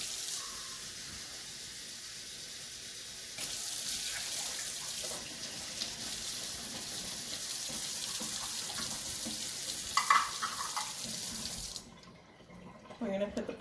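Kitchen tap running water into a measuring cup for cooking couscous, a steady hiss of flowing water for about twelve seconds that cuts off near the end, followed by a few faint clinks.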